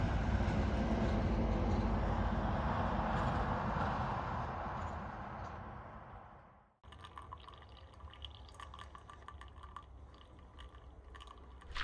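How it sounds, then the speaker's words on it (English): A train rumbles past close by, loud and steady, then fades away quickly, leaving a quieter background with faint clicks and drips. "There was a train that went by every once in a while"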